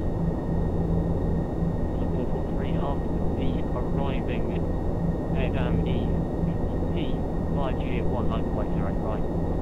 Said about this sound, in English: Okay, so we're accelerating. Flaps 10, please.